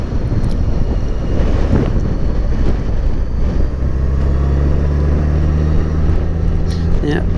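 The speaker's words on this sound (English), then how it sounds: "I don't know if you can hear the wind." Loud, constant low wind buffeting roars across the whole stretch, with a steady background hum beneath it.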